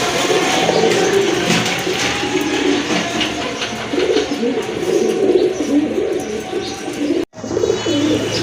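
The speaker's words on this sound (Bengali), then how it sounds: "আরেক জোড়া চীনা কবুতর" Chinese pigeons offered for sale coo in low, rolling murmurs, several birds overlapping close up with some faint chirps, steady throughout until a brief dropout near the end.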